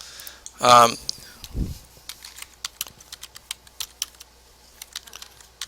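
Someone types on a computer keyboard at close range, with a series of light, uneven key clicks following a brief burst of speech and a soft thump.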